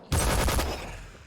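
Gunfire from a gun in the video game Crunch Element Alpha: a rapid burst of shots starting abruptly, loud and close, then fading into a lingering rumbling tail.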